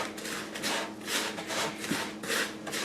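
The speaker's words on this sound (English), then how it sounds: "I'm going to use my hand and just mix this together" A hand mixing pie crust crumbs with melted butter and sugar in a bowl for a no-bake key lime pie, giving a steady, gritty rubbing and rasping texture in repeated close strokes.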